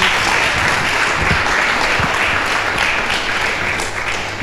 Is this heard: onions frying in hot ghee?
no